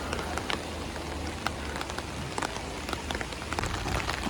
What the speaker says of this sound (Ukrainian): дощ посилився